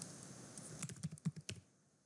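Computer keyboard typing during a programming lecture, a short run of about half a dozen faint, quick key clicks with no voice.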